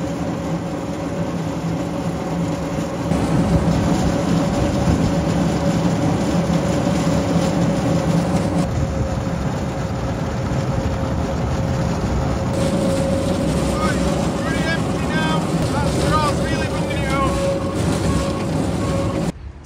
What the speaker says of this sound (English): From Andy's straw blower.